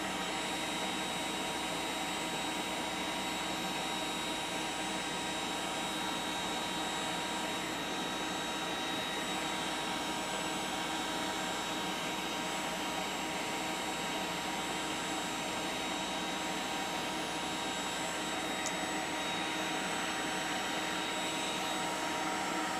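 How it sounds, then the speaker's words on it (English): An Ecarke cordless heat gun blows hot air in a steady, loud, unbroken whooshing roar close by, with no pauses and no talk. "we can use the heat gun to shrink the shrink, so you don't have to use a lighter"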